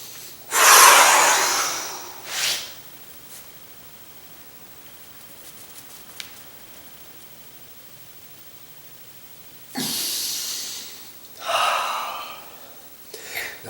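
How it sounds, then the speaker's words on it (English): Deep yoga breathing: a long, forceful breath held and then released in loud rushing exhales and inhales, close to the ear, with quiet stretches of held breath between bursts. "I'm going to be very, very out of breath, and I'll use some sun breaths to stabilize."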